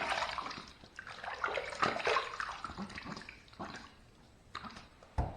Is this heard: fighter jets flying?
no